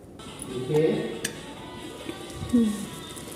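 A metal lid goes onto a cooking pot of Karnataka-style bisi bele bath, giving a couple of light clinks and a ringing clatter, with quiet kitchen background around it.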